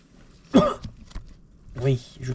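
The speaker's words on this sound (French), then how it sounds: "Oui, je tousse." A man coughs twice, a sharp throaty cough followed a little later by a rougher, deeper one, close by in a quiet garage.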